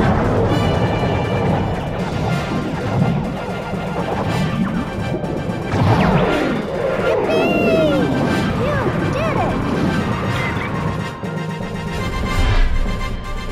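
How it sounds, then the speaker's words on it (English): Dense shooting, crashes and torpedo explosions from the video game StarFox 64 3D pile up loudly and continuously, with laser-like sweeps and game voices talking over the action. "Keep shooting! We've got lots of torpedoes!"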